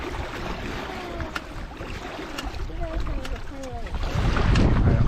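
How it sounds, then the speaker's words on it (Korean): A small yacht sails off Paracas beach in Peru, with wind and rushing water buffeting the microphone and growing louder toward the end. Voices murmur faintly underneath. "요트 항해를 하고 있습니다"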